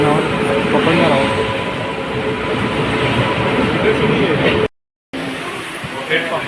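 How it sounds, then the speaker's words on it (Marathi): An Indrayani Express passenger train rumbles steadily and loudly nearby, a continuous rolling roar that briefly cuts out before resuming, with a voice speaking over it. "जी तुम्ही आता समोरून बघता येते ती आमची इंद्रायणी एक्सप्रेस आहे."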